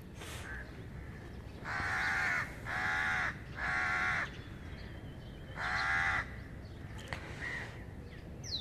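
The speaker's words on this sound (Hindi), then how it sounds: "परिंदों की आवाज़ को सुनेंगे, इनको ध्यान से सुनेंगे।" Crows cawing outdoors, four loud harsh calls in a slow irregular series over steady background hiss, with faint distant bird chirps between them.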